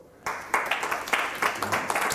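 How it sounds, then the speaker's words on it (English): A small audience at a hypnosis demonstration breaks into applause for a man called up on stage, brisk clapping starting abruptly after a brief quiet and continuing steadily. "Give him a round of applause"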